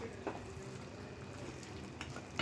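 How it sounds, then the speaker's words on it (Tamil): Mutton deep fries in a pan with a soft, continuous sizzle, faint and steady throughout, with a couple of light scrapes near the start and end and no talking. "இன்னும் ஒரு 2 to 3 மினிட்ஸ் இன்னும் கொஞ்சம் டீப் ஃப்ரை பண்ணிடலாம்"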